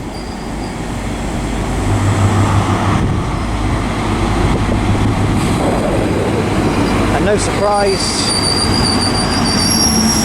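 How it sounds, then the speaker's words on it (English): An LNER Class 43 high speed train pulls into Haymarket station, a loud rolling rumble with a rising wheel squeal and brake screech near the end, as a person talks briefly under it. "Also arriving is the delayed 1639 LNER service from London King's Cross to Inverness"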